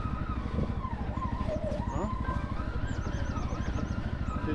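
A Segway Snarler AT6 Limited ATV riding through mountain forest, its engine braking as a low, rapid pulsing thrum that runs steadily and close, with a brief spoken exclamation and a few bird chirps over it.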